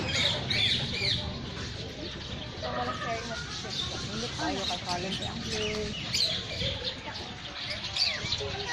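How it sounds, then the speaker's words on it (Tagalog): A busy mix of chirping birds and cooing pigeons fills the air continuously, with many calls overlapping and people talking underneath. "Ayan, kalapati."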